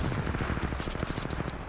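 A thunder cannon fires in the Titanfall 2 multiplayer shooter as a fast, loud string of heavy booming blasts, thick with low rumble and rapid repeated impacts.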